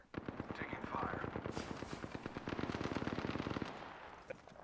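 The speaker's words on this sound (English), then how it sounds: "Prowler SMG here. Taking fire." Rapid automatic fire from the Prowler SMG in the Apex Legends video game, sustained staccato bursts of sharp shots close and loud, with brief pauses between strings.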